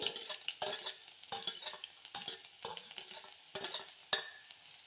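Chopped garlic frying in oil for pepper chicken, a steady sizzle broken by repeated scraping stirs of a spoon in the pan, close and alone with no voices.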